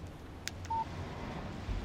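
A single short electronic beep from a mobile phone announcing an incoming text message, quiet against a low background hum, preceded by a faint click.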